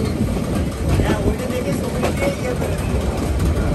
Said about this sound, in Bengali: ভোর হওয়ার আগের মুহূর্তে ট্রেন ছুটে চলেছে মোহনগঞ্জের পথে